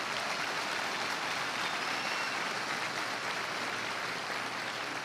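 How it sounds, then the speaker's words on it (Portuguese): Sustained audience applause at an evening class event, a dense even wash of many hands clapping at steady loudness throughout, no voices standing out. "Uma salva de palmas para o Tadeu."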